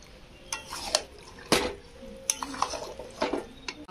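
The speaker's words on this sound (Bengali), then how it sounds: "গ্যাসটা কিন্তু একদম নর্মালে দিয়ে কষতে হবে, কেননা টক দই দেওয়া রয়েছে।" Chicken coated in sour yogurt being stirred and slowly fried in a pan over moderate gas heat, with scattered scraping clinks of a spatula against the pan every second or so over a soft sizzle, close and fairly quiet.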